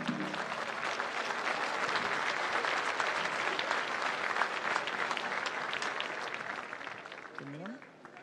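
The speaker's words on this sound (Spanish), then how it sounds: "Y con otro fuerte aplauso" Crowd at the 74th Chilean National Rodeo Championship applauds steadily for several seconds, dense and fairly loud, fading near the end as a voice begins.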